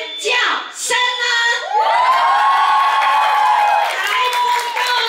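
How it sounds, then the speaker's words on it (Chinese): A large audience at a corporate bodykey party event screams and cheers for the performers, starting with a few whoops and then swelling into a loud, sustained, high-pitched group shriek that holds for several seconds. "你有没有为今天所有上台演出的每一个朋友喊出你的尖叫声呢？"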